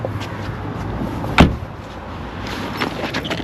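Car door shutting with a single solid thud in a large hotel parking lot, followed by faint clicks and quiet outdoor ambience.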